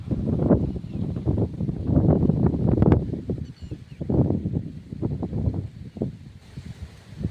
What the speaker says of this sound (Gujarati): પવન બહુ આવે એટલે તમને મારો અવાજ બહુ નહીં આવે સંભળાય